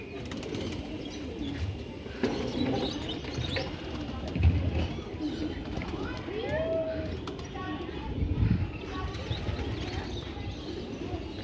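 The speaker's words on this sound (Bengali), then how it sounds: "জালালি কবুতর শুধু সিলেট না ঢাকায়ও আছে।" Soft Jalali pigeon coos sound at intervals amid outdoor chatter and background bustle on a rooftop in Old Dhaka, with a few brief wing flaps.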